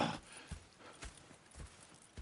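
Horse hooves clip-clopping in Red Dead Redemption 2: a slow, even walking rhythm of soft, fairly faint thuds, about two steps per second, with a little background hiss.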